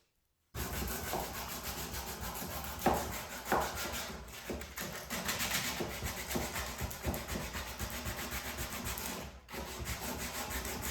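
Hand sanding the wooden legs of an old piece of furniture during a restoration, a quiet, steady rubbing rasp in back-and-forth strokes with no talking.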